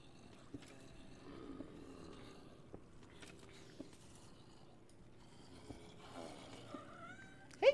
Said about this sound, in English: Hey, kitten.